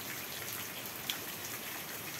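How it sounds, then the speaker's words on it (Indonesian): Heavy rain falling outdoors, an even, dense hiss of drops with one brief sharper tap, steady and fairly faint, with no voices. "Jadi meskipun hujannya deras"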